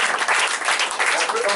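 Church congregation applauding and acclaiming Jesus at a deliverance meeting, a dense sustained wash of hand claps filling the room, with cheering voices mixed in throughout.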